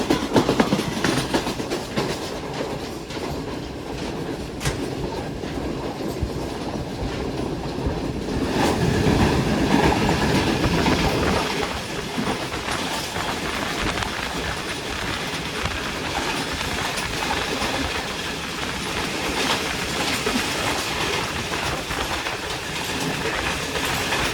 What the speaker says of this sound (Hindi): किशन कलार रेलवे स्टेशन पर 41 आपके साथ क्रॉस हो रहा है।